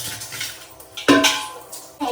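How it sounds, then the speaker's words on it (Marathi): Metal pots and dishes are scrubbed and handled at home, giving soft scraping with a sharp clank near the middle and another clatter at the end, close by. "आपण हा ह्याला घासून घेऊ."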